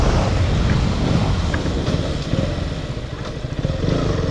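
A KTM Duke 125 motorcycle engine runs steadily while riding, its low rumble blended with strong wind buffeting across the microphone, loud and continuous throughout with no talk.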